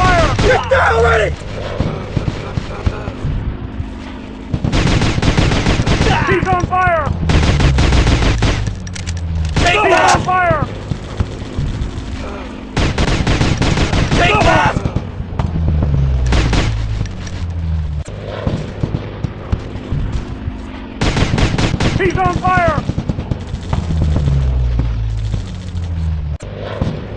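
Gunfire in the Commando Strike multiplayer video game: repeated loud bursts of shots and booms come in clusters separated by short gaps, with voices shouting in between.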